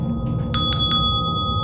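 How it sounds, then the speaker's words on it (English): A small hand bell rings three quick bright strikes, each leaving a shimmering metallic decay, close and loud over a low background hum inside a dark old hall. "As I'm ringing this bell, things are starting to happen."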